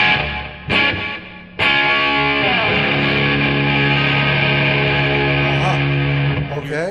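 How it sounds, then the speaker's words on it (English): Electric guitar played through the Tech 21 Fly Rig 5 with its DLA delay set for a tape-echo, chorus-like modulation, giving sustained distorted chords that waver and repeat, loud and alone after a couple of short opening strums. "Hear that chorusing effect?"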